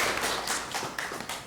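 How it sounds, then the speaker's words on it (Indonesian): Students in a class clapping in unison, a run of quick, fairly soft hand claps spread over about a second and a half. "tepuk tangan semuanya"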